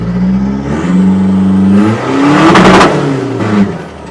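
A loud 4JJ3 diesel pickup engine with stock injection pump revs up hard several times, rising and falling in pitch, close by with no talking.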